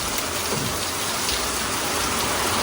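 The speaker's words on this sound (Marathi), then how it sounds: "दुपारचे तीन वाजलेत आणि अजून पण पाऊस चालूच आहे बारीक बारीक" Steady light rain falls on an afternoon in May in the Konkan region, a dense, even hiss of drops that stays constant throughout with no voices.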